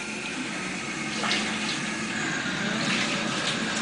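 Tap water runs steadily for a baby's first bath, a constant broadband splashing rush that stays close and unbroken throughout.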